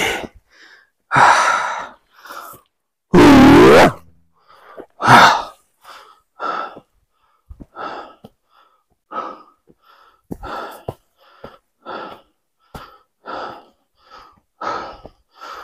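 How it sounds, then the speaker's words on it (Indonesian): A hiker climbing Mount Lawu pants heavily, with a series of loud, close gasping breaths and sharp exhalations spaced irregularly, one long strained gasp among them, and a few brief words between breaths. "Kelihatan ngos-ngosan."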